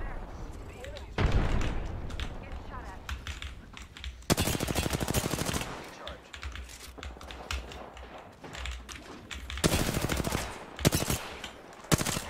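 Bursts of automatic gunfire in Apex Legends, loud rapid machine-gun volleys in several clusters separated by quieter gaps, with a voice speaking between them.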